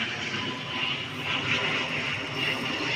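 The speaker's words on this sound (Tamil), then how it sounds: "மேலே ஒரு ஃப்ளைட் போகுது பார்த்தீங்களா" An airplane passes overhead outdoors, a broad steady engine roar that swells slightly and fades back without a break, with no speech.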